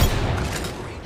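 A frag grenade blast in a sci-fi shooter match, a dense low boom with rumbling debris and gunfire noise filling the whole second, loud and close.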